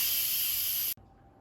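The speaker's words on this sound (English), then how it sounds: "And now let's quick release the remaining steam." An Instant Pot vents its remaining pressure in a quick steam release, a loud, even, close hiss that cuts off abruptly just under a second in, leaving near silence.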